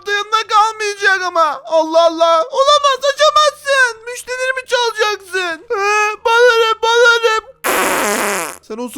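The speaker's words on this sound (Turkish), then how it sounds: "osurmaya devam et Tarık" Minecraft fart effects punctuate a run of rapid, high-pitched child-like voice chatter, with a loud burst of flatulence noise near the end, up close and prominent.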